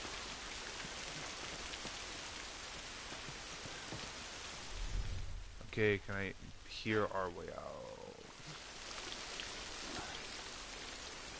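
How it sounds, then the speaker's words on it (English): Steady rain falls throughout a scene in The Last of Us Remastered, a dense patter with the downpour briefly thinning as a person speaks in the middle. "At least we're out of the rain."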